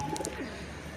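Kalpetia pigeons coo softly in a short, low call over a steady background hum, with two brief sharp clicks near the start. Nobody speaks.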